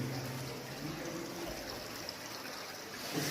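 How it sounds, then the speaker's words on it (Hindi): Near its source in the Kullu mountains, a river stream flows in a faint, steady wash of running water, continuous and fairly distant, with no voices. "यहाँ से ये नदी निकलना शुरू हो चुकी है"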